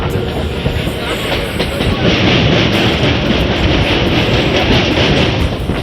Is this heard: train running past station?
yes